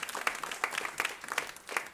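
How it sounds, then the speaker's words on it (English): An audience claps for a speaker, quiet and somewhat distant, a steady patter of many hands lasting a couple of seconds. "Round of applause for her, please."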